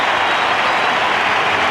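A cricket crowd at a 1993 New Zealand v Australia one-day international applauding a fine batsman: dense, steady clapping from a large stand, loud and unbroken throughout.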